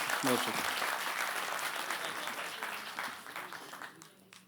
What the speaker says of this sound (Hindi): ज़ोरदार तालियां अतीक अंजर साहब की